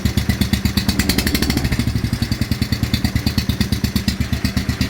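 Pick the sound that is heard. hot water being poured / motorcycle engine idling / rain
motorcycle engine idling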